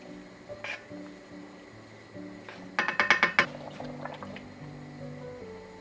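Cornstarch slurry poured into simmering chicken sauce for Filipino chicken pares, a quiet bubbling bed broken by a short burst of liquid splashes and clinks mid-clip, close and without talk.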